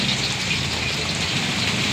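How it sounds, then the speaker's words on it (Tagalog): Heavy rain pours steadily onto a street food vendor's stall, a dense, continuous hiss that stays loud and close throughout with no voices over it. "Malalakas ng ulan."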